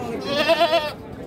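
A young male Peranakan Etawa goat for sale gives one short, wavering bleat at close range.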